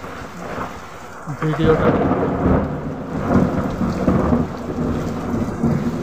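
Thunder rolling through heavy rain on a monsoon day: a steady wash of rainfall, then deep rumbling swells that rise and fade several times, fairly loud and close.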